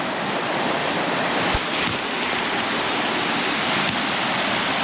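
Lower O-Band Waterfalls pour in a steady, dense roar of rushing water heard close by, broad and unbroken for the whole stretch with no voices.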